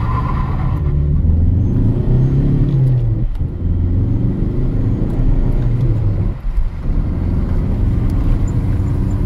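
Heavy engine drone fills the cabin of a 2005 Skoda Octavia 1.9 TDI diesel as it pulls hard through first and second gear, a loud continuous rumble with a brief dip at a gear change.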